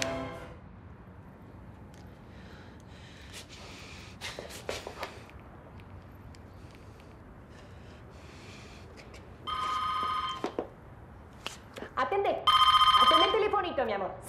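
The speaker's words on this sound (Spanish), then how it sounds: "Atendé el teléfono." A telephone rings in a couple of loud electronic bursts near the end, following quieter shuffling and room noise.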